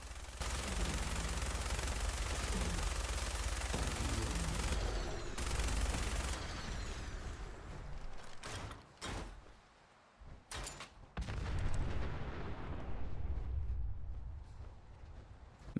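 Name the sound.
gunshots in the video game Fallout 4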